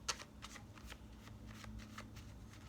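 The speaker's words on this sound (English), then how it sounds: "It's like really hard to shuffle though." Handmade deck of cards being shuffled in quick soft riffles, a run of crisp close flutters and taps, fairly quiet.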